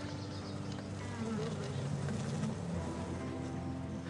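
Honey bees humming steadily at the entrance of their hive, a dense, continuous buzzing drone heard close up with no voices over it.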